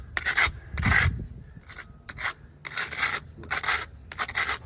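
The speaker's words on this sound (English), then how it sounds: "I'm gonna scrape it sideways to fill those gaps." Putty knife scraping patch compound sideways into driveway cracks, close, rough rasping strokes in about seven bursts of uneven length with brief pauses between them.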